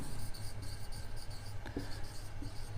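A marker squeaks and scratches across a board as an arrow sign is drawn in a chemistry lesson, faint short strokes over a quiet room hum, with no talking.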